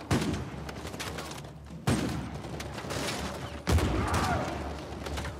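Uncharted 4 gunplay: bursts of rapid gunfire crackle over a dense game soundscape, with two sharp heavy blasts punctuating the action and a narrator's voice running over it.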